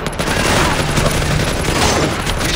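Loud, dense shotgun fire and impacts from the video game Splinter Cell Conviction, a continuous heavy barrage filling the short clip with no talk.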